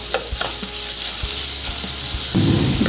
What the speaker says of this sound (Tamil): லைட்டாக ஒரு 2 செகண்ட் போல் ஆயிலை நம்ம அதை வதக்கி கொடுத்துக்கலாங்க.